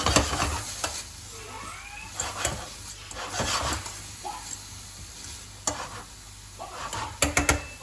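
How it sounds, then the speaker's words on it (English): Food is stirred in a pan, a soft sizzle with scraping and clinking spatula strokes in bursts, fairly quiet and close, ending in a few sharp knocks. "And just give it a nice stir."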